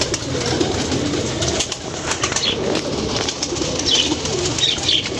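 Pigeons of a Lahore fancier's flock coo close by in a busy loft, with soft chirps and a few wing flutters mixed into the steady murmur.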